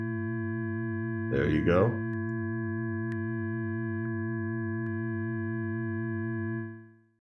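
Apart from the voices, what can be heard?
Ableton Live Operator synthesizer tone with filter change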